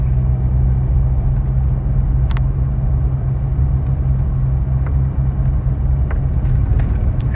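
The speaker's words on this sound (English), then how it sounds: "Now you can hear it shifting all sporadically." A Chevrolet Silverado pickup's transmission kicks down and shifts with grade braking engaged, heard as a steady, loud low engine and road rumble inside the cab throughout, with no clearly distinct shift events standing out.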